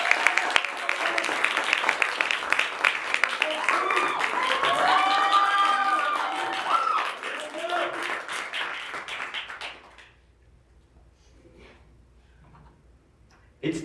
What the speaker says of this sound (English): Everyone give a round of applause to Will.